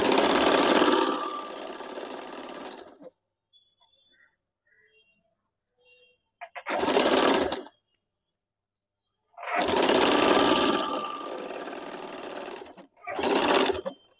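A sewing machine stitches a petticoat in bursts: two longer whirring runs, each followed by a short spurt, loud and close, with near-silent pauses between them.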